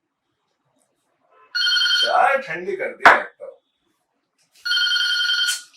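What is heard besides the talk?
telephone ringing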